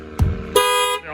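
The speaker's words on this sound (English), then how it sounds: "the alarm will fire off." A 2020 Lexus RX 350's aftermarket shock-sensor alarm fires: a short thump followed by a loud, steady electronic siren tone at close range.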